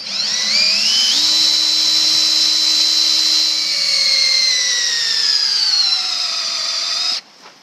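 A high-pitched power drill whines steadily at close range for about seven seconds inside a Weber engine valve guide, its pitch shifting slightly, then cuts off abruptly.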